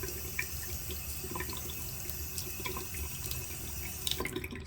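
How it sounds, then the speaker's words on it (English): Tap water runs steadily over a small liver-of-sulfur patinated metal piece being rinsed, a continuous splashing hiss with a few faint drips and clinks, close and moderately quiet, with no talking. "I'm going to rinse my piece really well."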